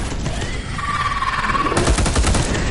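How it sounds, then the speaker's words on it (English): Weapon fire in the Space Hulk Deathwing video game, a missile launcher: continuous loud rattling blasts and a rising whine, with rapid sharp cracks toward the end, no speech. "Missile launcher."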